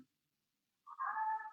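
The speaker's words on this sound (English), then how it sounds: "That's my cat." A pet cat, a former foster, lets out one drawn-out meow after a brief silence, fairly close and clear, heard alone in a quiet home.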